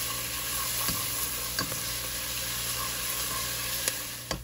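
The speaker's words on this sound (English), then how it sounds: "And then we're just gonna give this a nice good stir." Onions and garlic sizzling in a soup pot as they are stirred, a steady bright frying hiss with a few sharp scraping clicks of the spoon against the pot, close and continuous with no talking.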